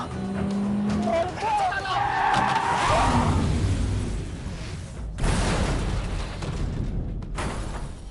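A car driving fast and skidding, engine roaring close with a squealing tire slide early on, then heavy rushing passes and abrupt bursts of motion noise, with voices heard over it.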